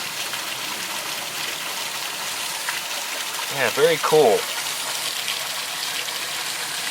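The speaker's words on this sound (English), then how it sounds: "You can probably hear the fast-flowing river nearby as well." A fast-flowing river in the Hong Kong countryside produces a steady, broad rushing hiss throughout, with a brief spoken remark over it near the middle.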